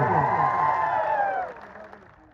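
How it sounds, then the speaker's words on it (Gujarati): A crowd at an Aam Aadmi Party village meeting in Atha Dungri bursts into loud, dense applause with cheering, holding strong before tapering off into scattered claps and murmur. "આપણે જોરદાર તાળીઓ પાડી લઈએ"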